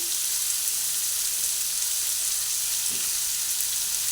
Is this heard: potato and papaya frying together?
yes